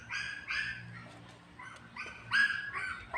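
A puppy on a Philippine farm barks and whimpers in short bursts, close by and moderately loud, with a low background hum underneath.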